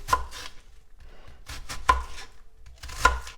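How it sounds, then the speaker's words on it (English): Celery and red onion being chopped with a knife on a board, three sharp, close, isolated cuts spaced about a second apart with quiet pauses between. "I'm going to now just cut up my celery"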